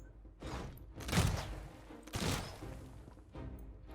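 Gunfire during a strategy video game battle: two heavy, booming shots about a second apart, each trailing off into a rumble, with a softer thud before and after.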